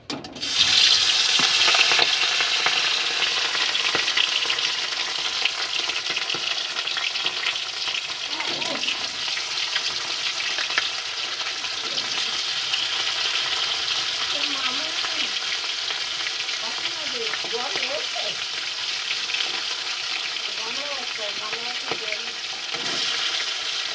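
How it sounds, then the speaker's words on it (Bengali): Hilsa fish fry in hot oil in a wok, giving a loud, steady sizzle that runs throughout with occasional stirring and clatter, with no talk over it. "তেল গরম হয়ে গেছে, এবার মাছগুলো তুলে দেবো।"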